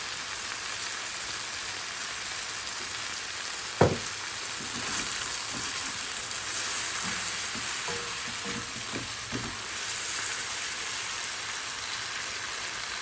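Pasta sizzling and frying in a pan as sauce is added, a steady hiss and crackle throughout with a sharp clink near the start and scattered stirring scrapes.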